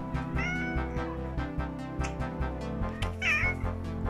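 A pet house cat lets out two clear, nearby meows about three seconds apart over a steady low background hum.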